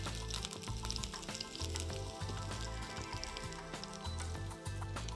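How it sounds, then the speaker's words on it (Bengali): Onion sautéing in a pan with oil, a steady close sizzle and crackle running throughout, with faint music underneath. "পেঁয়াজটাকে আমরা জাস্ট একটু ট্রান্সপারেন্ট কালার হলেই তারপরে একটু সতে করে নিলেই হবে।"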